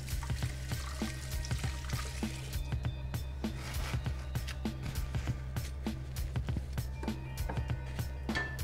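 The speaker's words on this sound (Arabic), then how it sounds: "نغسل السكينه الاول" A knife being washed under running water from a tap, a steady pour with rhythmic clinks and splashes as the blade is rinsed, over a constant low background hum, with no talk.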